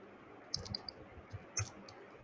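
Faint, sparse clicks of typing on a computer keyboard, a few light keystrokes scattered across a quiet moment with no talk.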